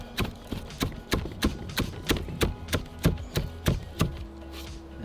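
A chef's knife chopping through fresh chives on a cutting board, a run of about a dozen crisp, evenly spaced chops close up, with no speech.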